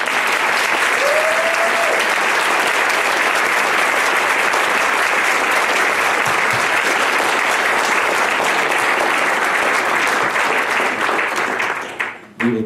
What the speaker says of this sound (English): Will you all join with me in a round of applause for our panel?